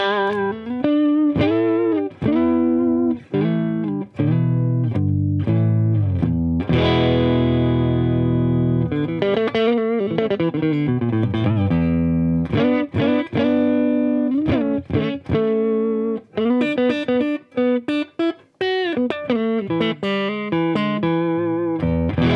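An electric guitar, a custom mahogany Strat with Seymour Duncan YJM Fury pickups, plays distorted riffs and sustained chords through a Harley Benton Tube15 tube amp, loud and close with choppy rhythm and ringing held notes.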